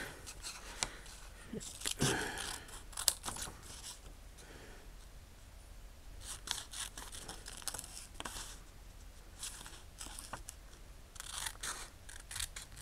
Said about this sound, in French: et on va découper nos petits sujets.